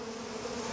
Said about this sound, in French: m'envoyer au cœur d'un essaim d'abeilles africaines en colère